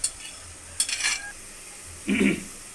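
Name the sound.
carrots being stirred and fried in pan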